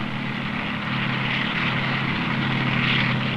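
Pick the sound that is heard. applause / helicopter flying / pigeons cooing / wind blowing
helicopter flying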